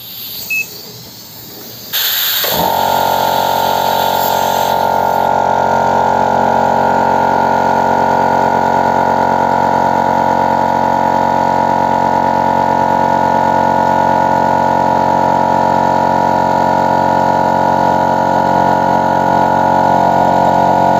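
An Artix 3/4 HP air compressor kicks on after a couple of seconds of near quiet, then runs with a loud, steady mechanical hum close by for the rest of the stretch.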